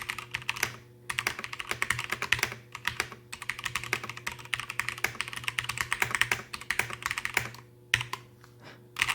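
Hard, aggressive typing on a mechanical gaming keyboard, dense rapid keystrokes clattering loudly and close, with a couple of short gaps near the end and no voices.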